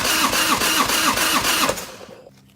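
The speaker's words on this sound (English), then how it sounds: "I'm going to rotate the engine about 10 times" A Harley-Davidson Evolution motorcycle engine cranks over for a compression test, run from an auxiliary battery, with a steady, rapid chugging rhythm for about two seconds, close and loud, then stops abruptly without starting.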